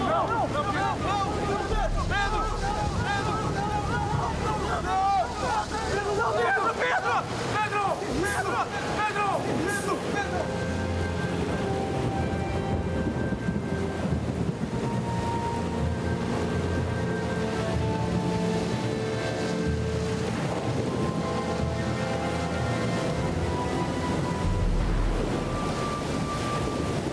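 Wind and waves rush on the open sea in a continuous roaring wash, with gusty buffeting close to the microphone and voices and music heard over it.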